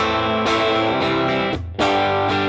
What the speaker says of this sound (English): Okay, and I have my new drive pedal, which is this.